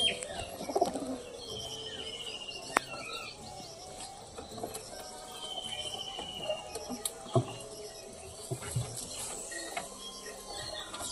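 Female Kaldom pigeon giving soft, quiet coos and chirps in a small loft, with other birds faintly twittering around it.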